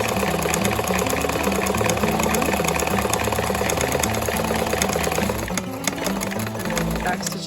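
Sewing machine stitching a 5/8-inch seam for a centered zipper at 2.5 stitch length, backstitching as it runs; a steady, dense mechanical whir holds for several seconds before easing slightly near the end.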